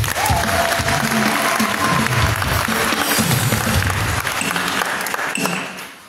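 A church congregation at an FPCT service in Ilala Nguru, Uvinza, applauds: dense, steady clapping from a crowd, loud and sustained for about five seconds before fading out at the end.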